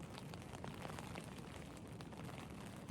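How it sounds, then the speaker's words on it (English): Rain falls steadily on a backcountry backpacking trip along the Red Deer and Clearwater rivers in the morning, a dense, even hiss close by with no voices. "It's raining."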